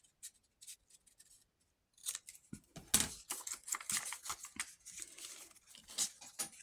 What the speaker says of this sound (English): I'm going to snip the bottoms.